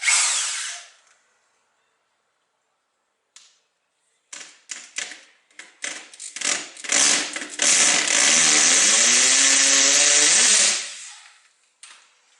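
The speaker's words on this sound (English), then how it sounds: "let's drill a couple of holes" Bursts of a power drill boring holes for a reverse osmosis unit install, starting with a short burst, then stuttering pulses that build into a long, loud, steady whine before stopping, heard close with no talking.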